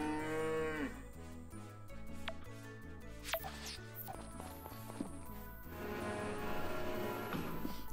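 Cartoon cows mooing on the farm in the Story of Seasons: Friends of Mineral Town video game, several drawn-out moos over steady game music.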